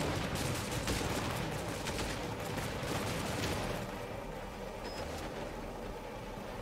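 Distant gunfire in Cepheus Protocol, a dense, faint crackle of many shots over a steady background rumble that thins out toward the end.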